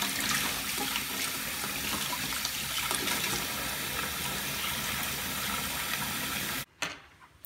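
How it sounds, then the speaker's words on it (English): A steady stream of running water pours and splashes while soap is rinsed out of a Project MC2 Adrienne Atoms doll's hair, continuing for several seconds before cutting off abruptly. "Rinse the soap out of her hair."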